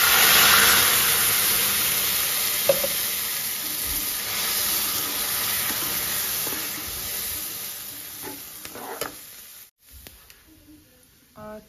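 Milk goes into a hot frying pan on a village kitchen stove, raising a loud steady sizzle and steam hiss that slowly calms, with a few small clinks and stirring scrapes near the end.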